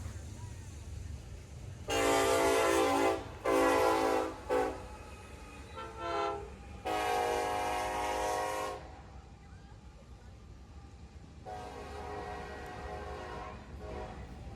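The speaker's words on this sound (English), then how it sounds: "this is NS-26X, eastbound stack train" An NS-26X eastbound stack train meets a westbound frac sand train, its horn blaring in loud long and short blasts, then a final long blast over rumbling rail noise.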